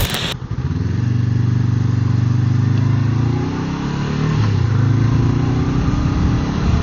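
A 2024 Honda CBR500R motorcycle engine drones steadily while riding over a speed bump, a loud continuous low hum that dips slightly midway before picking back up, with no talking.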